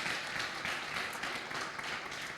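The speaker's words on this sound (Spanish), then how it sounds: "Fuerte el aplauso al Señor." Applause from a church congregation during a Sunday service, a steady, dense wash of many hands clapping at moderate distance, fairly quiet and unbroken throughout.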